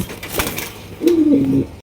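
A black pigeon coos once in a low, drawn-out tone, close by, following a stretch of bustling background noise at a pigeon market.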